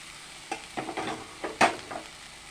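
A spoon scrapes through banana flower and lentils as they are mixed into fried spices in a pan for Bengali mochar ghonto. About half a dozen separate scraping strokes sound at close range, fairly quiet, with one sharper knock among them.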